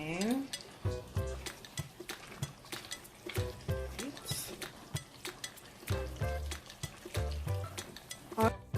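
Spoon stirring brown stew chicken with onion and scotch bonnet pepper in a pot, Jamaican style, giving repeated close scraping clinks against the pot over a soft simmering sizzle, with a faint background of music.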